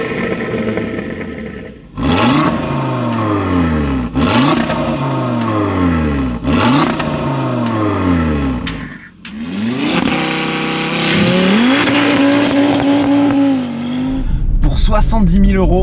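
A Cupra Formentor VZ5 with its 2.5-litre turbocharged five-cylinder engine revs hard several times in a row close up, each blip rising and falling, then pulls away accelerating through the gears.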